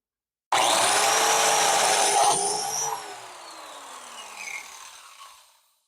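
A saw cuts a slot in wood for a tabletop fastener while building a children's stool: a loud, steady rasping cut that eases off and fades over several seconds, with no talk.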